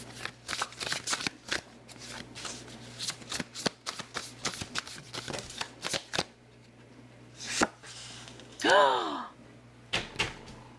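Tarot cards being shuffled, a rapid series of sharp riffling snaps and slaps close up, then a pause, a brief squeak, and a few more card taps.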